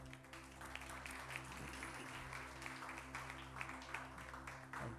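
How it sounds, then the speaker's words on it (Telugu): Congregation at a Telugu church service clapping to welcome the pastor, a steady dense wash of applause throughout, with faint murmuring voices underneath. "అదేవిధంగా పాస్టర్ గారిని చప్పట్లతో ఆహ్వానిద్దాం."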